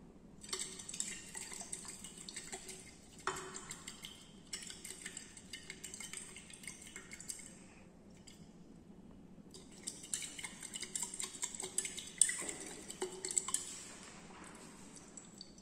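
Steady clinking and scraping of a stirrer against glass during a boric acid titration assay, continuous light rattling with brief pauses, fairly faint and close, with no talking.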